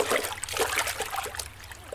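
River water flowing nearby, a steady trickling and gurgling wash with small splashy bursts that continues evenly throughout.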